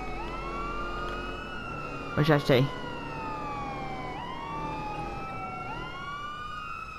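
Ambulance siren in the video game Watch Dogs 2, a steady wailing tone sweeping up and down throughout, moderately loud, with a brief burst of voice in the middle.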